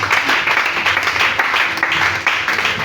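A church congregation claps and cheers in acclaim of Jesus Christ, a dense, loud, continuous wash of applause filling the hall with no pauses.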